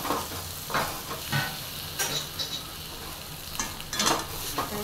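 A spoon works boiled mashed potato filling around a hot pan, giving scraping, stirring strokes over a soft steady sizzle, close and moderately loud with no talking.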